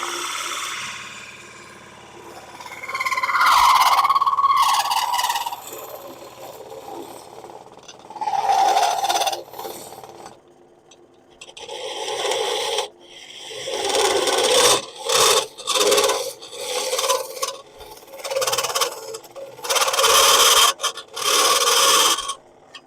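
A gouge cutting a spinning wood spindle on a lathe, with the tool rest set close, rasps and scrapes in repeated bursts, loud and near, broken by short pauses.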